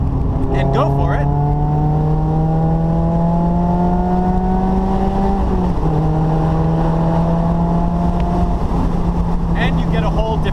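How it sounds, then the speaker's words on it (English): Mazda ND roadster with a Goodwin Racing sporty exhaust accelerating hard in a lower gear on a Big Sur road, a loud rising engine drone climbing steadily, one brief dip at a gear change, then pulling again. "there's another side to this exhaust. Pop down a gear"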